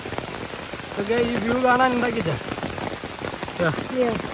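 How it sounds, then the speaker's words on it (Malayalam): Steady heavy rain hisses throughout in Ponkunnam, with a person speaking over it in the middle and again briefly near the end. "ഇതാണ് ഇവിടുത്തെ ആംബിയർ നല്ല മഴയാ"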